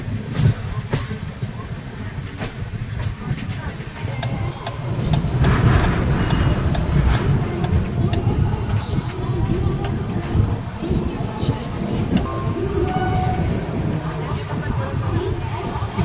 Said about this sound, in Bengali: নৈহাটির দিক থেকে কোনো একটা ট্রেন ব্যান্ডেলের দিকে আসছে